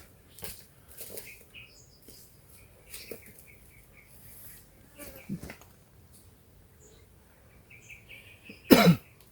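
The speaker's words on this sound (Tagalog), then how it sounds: "Ito ang ubo" A single sharp, close cough bursts out near the end after a quiet outdoor stretch with faint chirps and scattered small sounds.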